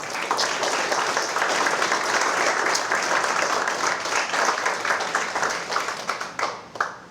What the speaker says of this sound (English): Let's just give a round of applause overall for this entire ceremony.